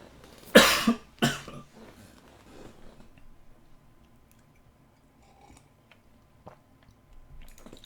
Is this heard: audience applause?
no